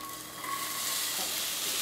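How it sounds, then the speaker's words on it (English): Onions frying in a pan on a stove give a steady, broad sizzle at close range, with a thin whine running through it and no talk. "we got a little sizzle, but I want it to go shh"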